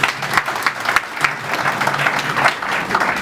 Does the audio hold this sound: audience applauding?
yes